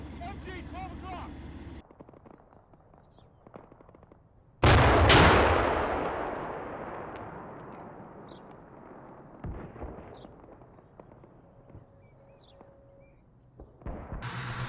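Gunfire and explosions from a distant forest in the war game Combat Mission Cold War: a sudden loud blast midway that rings out and decays slowly, with scattered faint shots before and after.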